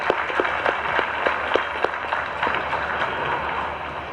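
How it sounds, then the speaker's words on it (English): At an eminent citizen awards function, an audience claps for arriving dignitaries: a steady, moderately loud patter of applause with sharper individual claps standing out throughout. "Come on, let us cheer the dignitaries who have arrived here."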